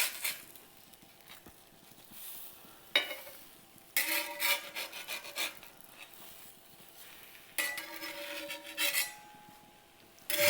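Cheese gringas toast on a griddle with a soft, quiet sizzle, broken by several louder scraping bursts of a spatula against the hot metal surface.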